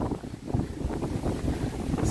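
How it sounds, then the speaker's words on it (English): Strong wind gusts roar steadily through woods beside an old overgrown burial ground, a dense, rumbling rush of air buffeting close by with no voices. "Now it is very windy, but we should be alright once we get in."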